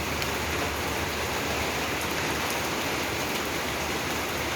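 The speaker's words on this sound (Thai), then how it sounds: "ฝนตกแรงขนาดนี้เบี่ยงหมดแล้วมั้ง" Heavy rain pours down steadily, a dense unbroken roar of drops on surfaces, loud and close throughout.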